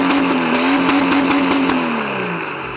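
Loud, steady revving of a BMW 325 TDS diesel engine with a straight-pipe, no-silencer dual exhaust, close up and sustained with a slowly falling pitch toward the end.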